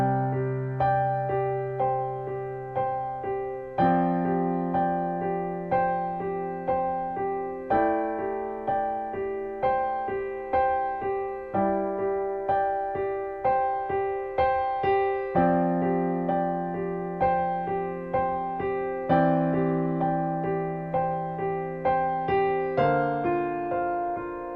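A relaxing piano accompaniment pattern played through a chord progression, solo and close, with gentle repeated broken-chord notes that ring and decay in a steady flowing rhythm, each chord change clearly audible for about twenty-five seconds.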